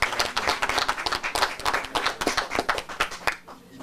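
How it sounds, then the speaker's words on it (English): Audience at a press conference for new mandatory kindergarten legislation claps for a group of kids, a dense burst of applause that fades out after a few seconds. "Let's give them a big applause."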